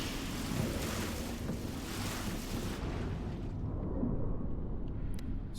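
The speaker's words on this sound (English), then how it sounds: "Swimming in icy water on Mars." Swimming through icy water on Mars in the video game Deliver Us Mars: a loud, continuous rush of churning water and bubbling that fills the clip alone, its airy upper hiss thinning out partway through.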